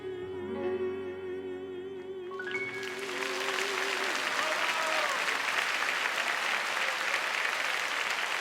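Church congregation applauding after a tenor's hymn at a New Year's Eve service, the clapping swelling in over a fading sustained note and filling the room as dense, steady applause.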